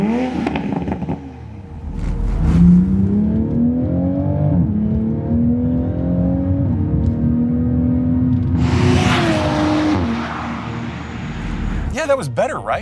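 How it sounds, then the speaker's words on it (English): An earlier-tune Toyota Supra engine revs up and falls off, its note sweeping and wavering before crackling and popping bursts on the overrun, loud and close, with people talking around it. "it would crackle and pop and burble on the overrun"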